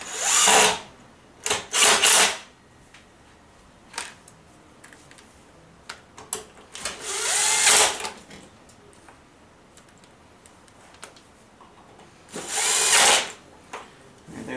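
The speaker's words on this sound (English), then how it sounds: "now we'll put the side screws back in to secure it" Power drill driving side screws back into an Airfibre 5 radio unit, several short whirring bursts of a second or so each with quiet pauses and small clicks between them, close by.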